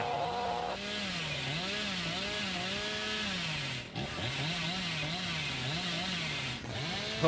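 The Hillbilly's chainsaw in the game Dead by Daylight drones steadily throughout, its pitch rising and falling in repeated revving swells, loud and close with two brief dips.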